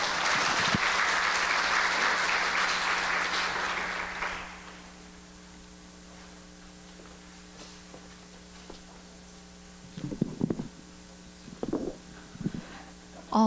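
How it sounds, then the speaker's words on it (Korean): Audience applause after a conference talk on Chinese unicorn companies fills the first four seconds with dense clapping, then fades to a quiet hum of the hall with a few scattered claps and small knocks near the end. "다시 한번 박수 부탁드리겠습니다"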